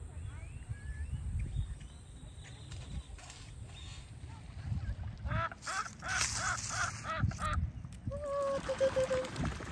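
Ducks quack on a park lake in the United States, several calls scattered over steady low background rumble, with other birds chirping nearby.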